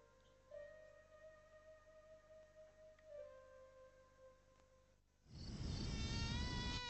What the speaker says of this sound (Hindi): ये मच्छर अपने साथ लाएं डेंगू और मलेरिया जैसी खतरनाक भी